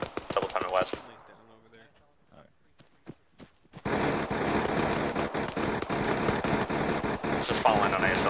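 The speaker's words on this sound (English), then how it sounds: "investigate the gunfire coming from the south." Gunfire in the military shooter game Arma 3 during a co-op mission, with rapid sharp shots and bursts crackling through dense, loud battle noise, and people talking over it.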